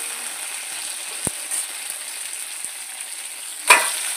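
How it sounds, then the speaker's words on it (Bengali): Washed mangoes frying in a little oil, a steady high hiss with a soft stirring scrape early on and a sharper clatter near the end. "ধুয়ে রাখা আমগুলো দিয়ে দেবো। একটু তেলের মধ্যে নেড়ে নেব"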